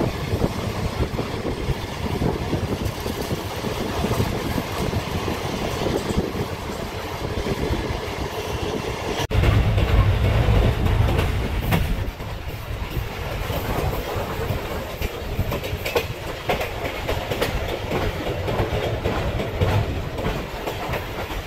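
The Karakoram Express between Lahore and Faisalabad rolls along at speed, heard from inside a carriage as a steady rumble with rhythmic clickety-clack of wheels on rail joints and a brief surge of louder rumbling partway through.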